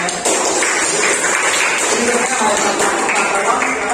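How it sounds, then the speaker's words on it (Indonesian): A classroom full of people clapping steadily together, a dense, continuous patter of applause lasting several seconds. "terima kasih tepuk tangan"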